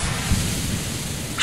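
A smoke grenade hisses in Counter-Strike: Global Offensive, a steady, loud broadband rush of noise that holds without a break and carries no voices.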